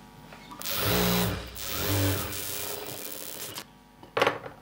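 A sewing machine stitches a chudi pant at a tailoring table, its motor running in two strong whirring bursts with quieter mechanical rubbing between them and a short clatter near the end.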